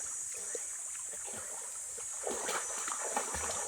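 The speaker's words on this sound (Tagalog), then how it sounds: "Nagbabackstroke pa sa langoy." A person swims backstroke in a river, with irregular splashes and water churning over a steady outdoor background noise, moderately close.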